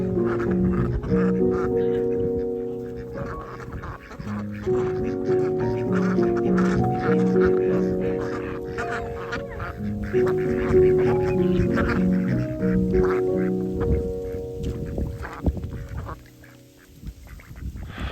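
A silver Swedish duck, a runner duck and black Cayuga ducks quack steadily by a pond. Their loud, overlapping calls form a busy chorus that barely lets up.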